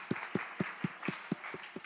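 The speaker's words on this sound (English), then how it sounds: "a round of applause for Summer Escape." Church audience applause, a steady run of sharp hand claps close by, about four per second, even and brisk throughout.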